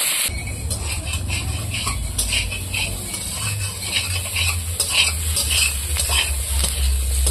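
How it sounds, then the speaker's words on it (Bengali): Potatoes and chillies stirred in a wok with oil, a steady scraping and stirring texture over a faint low sizzle, close and continuous with no talk. "এখন কড়াইতে গিয়ে নাড়তে হবে বন্ধুরা"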